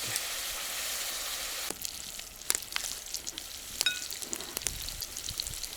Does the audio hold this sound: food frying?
yes